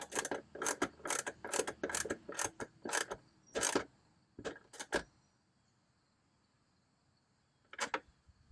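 A ratchet tightens a nut on a fog light of a 2000 Land Cruiser UZJ100, clicking in a close series of sharp strokes, then a pause and one final click.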